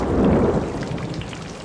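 Steady heavy rain with a low rolling rumble of thunder in the Corpse Party horror video game, a dense continuous wash of downpour that swells early and then holds even, with no voices.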